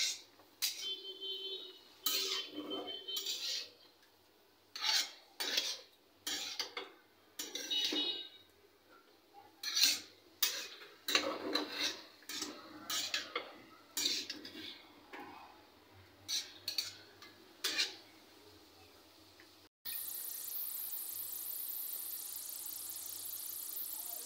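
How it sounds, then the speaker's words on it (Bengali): A spoon scrapes and clinks against a pan while bitter gourd and potato curry is stirred, in short irregular strokes, followed at the end by a steady hiss of cooking. "এখন লবণ দেওয়ার পর একটু নাড়া দিয়ে দিলাম।"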